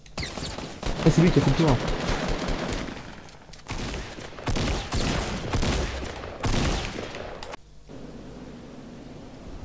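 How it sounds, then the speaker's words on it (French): Gunfire in a Fortnite Battle Royale match, several loud bursts of shots in quick succession with gaps between them, heard alongside a player talking. "Je me fais tirer dessus sur la droite."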